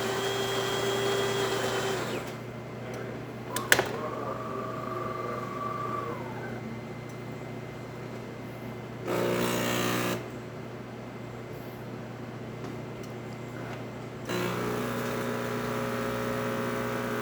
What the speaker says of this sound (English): As you can see, we're getting a nice flow coming from the machine.